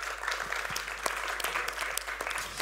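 Steady applause from an expo audience rewards the panelists after a discussion, many hands clapping in a moderately loud, even wash with a few sharper individual claps standing out.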